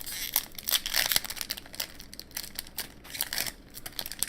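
A Pokémon card booster pack wrapper is crinkled and torn open close to the listener, giving irregular bursts of crisp plastic crackling and rustling, with no talk.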